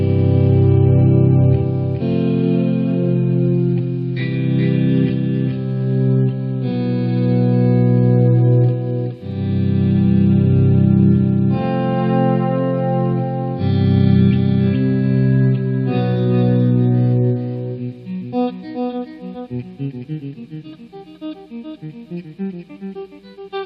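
An electric guitar dialed in through a Tech 21 Fly Rig 5 plays loud, sustained chords with effects, then breaks into faster picked notes toward the end.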